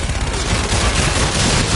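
A continuous, loud burst of heavy automatic cannon fire from an aircraft gun run blends into a dense rumbling roar close to the listener.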